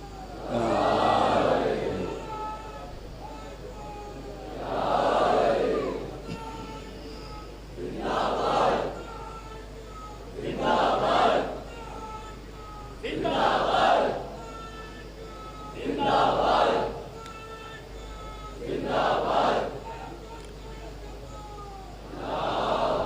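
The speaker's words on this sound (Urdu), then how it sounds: "دیکھیں نعرے آپ ضرور لگائیں، خوب نعرے لگائیں" At a Shia majlis gathering, a large congregation chants slogans in unison in eight regular, loud waves about three seconds apart, with a quieter murmur between the chants.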